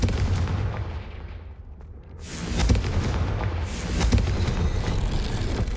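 Confringo fire spell cast in the video game Hogwarts Legacy, a loud booming blast followed by a second explosive burst, with rumbling crackle and low roar sustained throughout.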